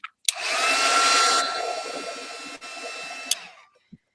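A heat dryer blowing over an art journal page, a close, loud continuous whoosh lasting about three seconds, then cutting off with small clicks around it.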